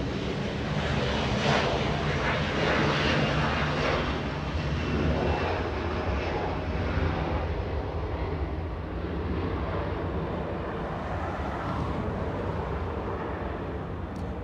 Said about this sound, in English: Alaska Horizon 2395 flying to Seattle, Washington. A little Embraer E175.